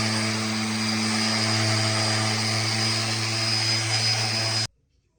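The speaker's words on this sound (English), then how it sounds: "I'm first gonna sand them with an orbital sander" An orbital sander whirs steadily up close against hickory wood pieces, a constant buzzing drone that cuts off abruptly near the end.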